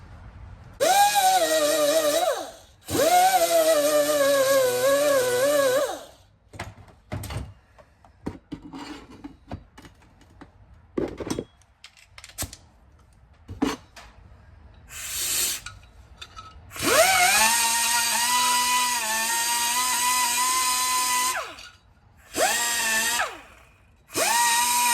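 Small rotary sanding tool on a 1970s Harley springer front end, cleaning burrs from plug weld holes: several long high-pitched whining runs, near and loud, separated by short bursts and scraping pauses with no talk.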